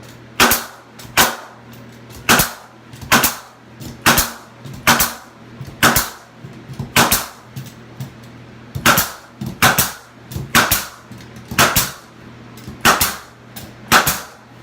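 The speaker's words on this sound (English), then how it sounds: "I love my Hitachi nail gun" A Hitachi nail gun fires sharp, punchy shots again and again, about fourteen in an uneven rhythm, close and loud during a guest room makeover.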